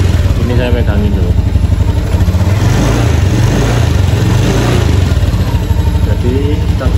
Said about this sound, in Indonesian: Jadi ini penyakitnya itu ada di bearing as dan puli CVT depan.